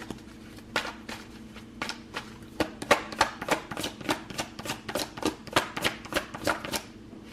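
Tarot cards being shuffled close by, a quick run of crisp riffling flicks and soft slaps in a steady rhythm for several seconds.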